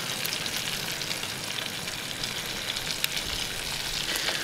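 Yellow perch seasoned with Cajun spice and salt fry in butter in a pan, giving a steady, even sizzle with small crackling pops throughout and no talking.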